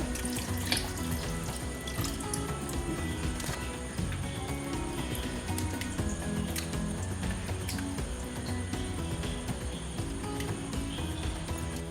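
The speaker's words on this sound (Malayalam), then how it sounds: "തേങ്ങാപ്പാൽ ഒഴിക്കണം കേട്ടോ" Coconut milk pours into a pot of chicken curry in a steady, liquid stream that runs unbroken from start to finish, close and moderately quiet, with no talking.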